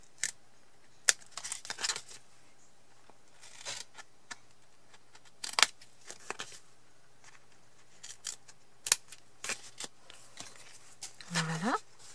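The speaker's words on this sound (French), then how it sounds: "je vais tout simplement couper le carré que j'ai là" Scissors snip through a square of craft material, cut at a slight angle, in a handful of sharp, close clicks spread over several seconds, with small handling rustles between the cuts in a quiet room.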